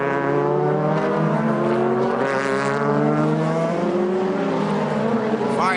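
DTM touring race cars from the 2004 season, including a year-old two-door Mercedes, roar past on track with loud, continuous engine howl and shifting pitch that rises and falls as several cars pass close by.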